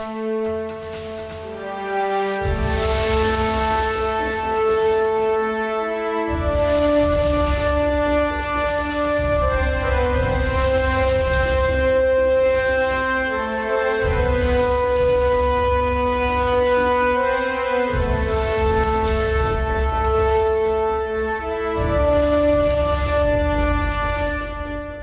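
A loud, sustained synth pad in the style of the PUBG game soundtrack moves through slow chord changes, with pounding low drums entering after a short intro and continuing throughout.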